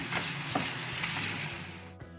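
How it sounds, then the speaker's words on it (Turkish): Potatoes and carrots sizzle steadily in a hot pan for a Turkish barbunya stew, with a few sharp crackles and spatula scrapes, then the frying hiss drops abruptly near the end. "Patatesimiz vardı. Onları ilave yapıyorum. Bunları biraz kavuralım."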